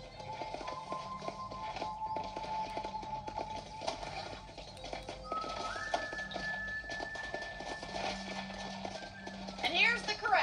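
Horse hooves clip-clop steadily at a ranch corral in Red Dead Redemption, with a horse whinnying near the end; someone talks over the hoofbeats throughout.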